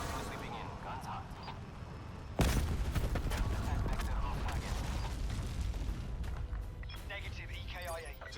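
Call of Duty gunship gunfire rolls in as a sustained, dense barrage of booming shots and rumbling impacts after a sudden loud onset, continuing under muffled radio-style chatter.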